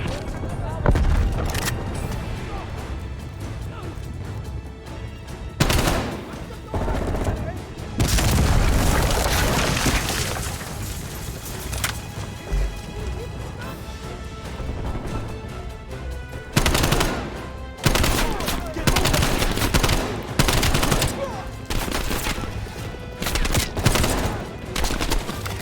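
Heavy gunfire and booms fill a Call of Duty: Black Ops Cold War firefight, with bursts of automatic shots and loud explosive hits over a steady battle din, while voices talk throughout.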